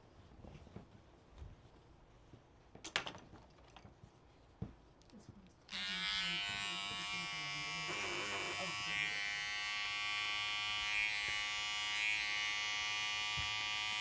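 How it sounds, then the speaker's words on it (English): An electric pet hair trimmer buzzes steadily as it cuts the threads of a quilt seam, a close, continuous high whine starting after a few seconds of quieter handling noises and faint knocks. "So I'm using this electric pet hair trimmer to just touch the thread as I'm pulling back the fabric"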